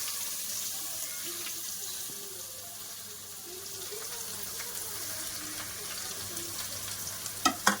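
Onions fry in oil with cumin, mustard seeds and a little fenugreek for a Nellore fish curry, a quiet, steady sizzle heard close, with a couple of sharp clinks near the end.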